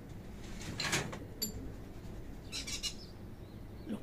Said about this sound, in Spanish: Los pájaros.